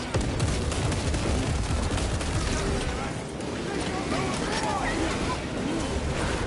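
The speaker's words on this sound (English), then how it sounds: "Let's get some grenades down there." Grenade blasts and gunfire roar in Space Marine 2, a loud, continuous barrage of explosions and rattling shots with someone speaking over the din.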